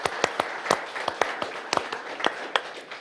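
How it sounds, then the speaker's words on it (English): Scattered clapping from a small audience at a school board meeting, a dozen or so separate claps spread irregularly over a few seconds, moderately close and with no voices over it. "Give Mike and Isabel a round of applause"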